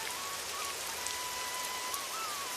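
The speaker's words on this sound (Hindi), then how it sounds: "बारिश बहुत तेज हो रही है" Heavy rain pouring steadily, a dense continuous hiss of drops on surfaces, loud and close with no pauses, and a faint thin tone running through it.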